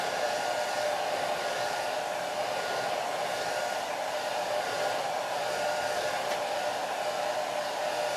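A hair dryer blows steadily on a wet watercolor painting of a tree, a loud, unbroken whooshing roar that holds level for several seconds with no voices.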